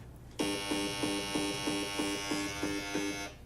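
A harsh electronic buzz from an RF meter sonifying a baby monitor's emissions drones steadily, pulsing in a regular rapid rhythm about three times a second, close and fairly loud, with no talking.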